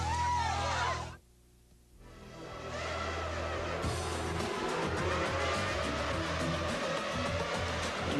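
A rally car races along a gravel stage at the 1997 Baies des Chaleurs Rally, its engine roaring close and hard, dropping briefly, then building again in a sustained, rising drone with gritty tire noise.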